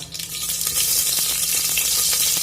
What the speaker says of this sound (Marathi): जिऱ्यानंतर आता मोहरीचा असा आवाज आला की त्याच्यामध्ये नंतर कांदा